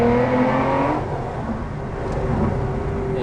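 A 2008 Aston Martin DBS with a manual gearbox and a 6-litre V12 built in Cologne accelerates hard. Its loud, close engine note climbs through the revs for about a second, then settles into a steady, throaty drone with no talk over it.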